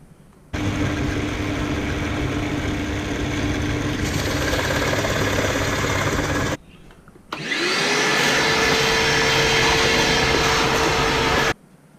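A drill turns a Forstner bit into wood to bore the inner hole of a spoked wooden toy wheel. A loud, steady motor whine runs for about six seconds, stops briefly, then resumes for a second sustained run.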